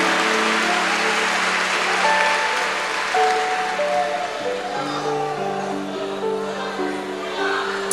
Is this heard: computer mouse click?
no